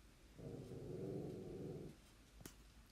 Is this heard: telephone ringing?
no